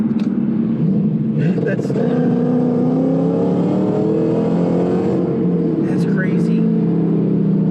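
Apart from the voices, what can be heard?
Roush supercharged Mustang GT revving on rolling 2-step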